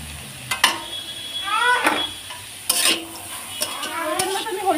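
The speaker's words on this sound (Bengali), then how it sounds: "সবজিগুলো দিয়ে ভালো করে নেড়ে নিচ্ছি" Diced potato, peas and mixed vegetables are stirred in a sizzling pan, with a spoon scraping and clanking against the metal in repeated strokes over a steady fry, close and fairly loud.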